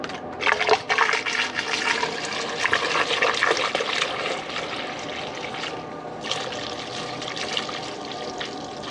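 Coolant pouring steadily into an Ecotec engine's cooling system with a continuous gurgling, splashing rush that stays fairly even throughout.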